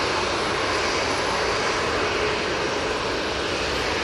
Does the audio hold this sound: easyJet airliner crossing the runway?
yes